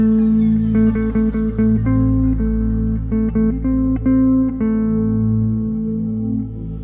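Two sustained guitar notes, a root and minor third, ring together over a steady harmonic background; plucked attacks repeat in a loose rhythm, clear and close.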